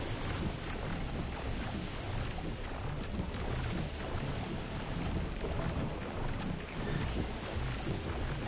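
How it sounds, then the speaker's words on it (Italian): A thunderstorm in the video game Horizon Forbidden West: Burning Shores, with dense steady rain and low rumbling thunder forming a continuous wash of sound and no voices. "Secondo me c'è il temporale adesso."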